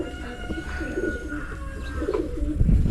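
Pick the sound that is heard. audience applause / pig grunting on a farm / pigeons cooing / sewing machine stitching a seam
pigeons cooing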